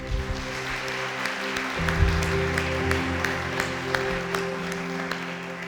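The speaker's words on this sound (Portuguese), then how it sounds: "Você pode aplaudir o Senhor por isso?" A church congregation claps in praise during a worship service, a steady wash of applause beneath sustained organ or keyboard chords, moderately loud and continuous throughout.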